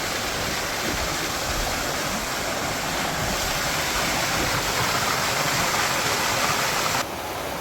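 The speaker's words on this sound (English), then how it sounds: "we've got another little waterfall here" Steady rushing water from a small waterfall along a walking trail in Tasmania, a continuous broadband splash and hiss heard close by without any voices.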